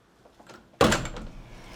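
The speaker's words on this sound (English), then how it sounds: "And then we make our way out this door." A door in a modern luxury home in Whistler opens onto a covered outdoor area with a hot tub, giving one sudden loud thunk and whoosh that fades into steady open-air ambience.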